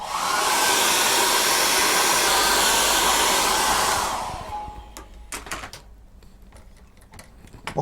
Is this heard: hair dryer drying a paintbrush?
yes